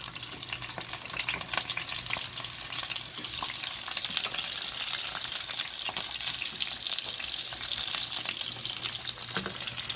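Hotdogs fry in a pan with a steady, even crackle of spattering oil that holds close and constant for the whole stretch, with no talking.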